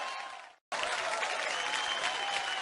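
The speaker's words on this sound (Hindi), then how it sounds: "इनके लिए जोरदार तालियां हो जाए।" Studio audience applause on a comedy show, a brief burst of clapping that cuts off abruptly, then resumes as a loud, dense and sustained ovation.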